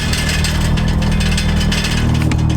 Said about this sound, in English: this is gonna be annoying driving with this rattling